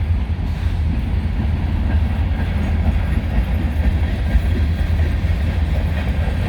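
A freight train led by a GP40-3 locomotive and hauling Tropicana juice cars rolls steadily past at Canal Ridge Road, a loud continuous rumble with rail noise throughout and no talking.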